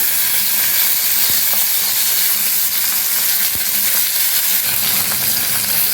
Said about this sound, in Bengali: এবারে আমি ডিম ভাপাগুলোকে হালকা করে ভেজে নেব।